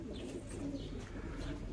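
A homing pigeon coos softly in low, rolling notes, repeated a few times against steady background noise, recorded inside a garage.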